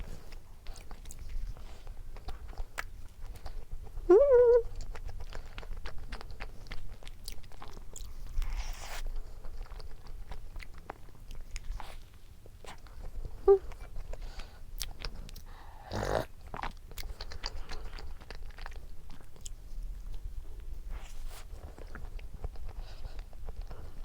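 Soft, close crunching and chewing of corn comes in irregular bites, faint and quiet against a low background hum.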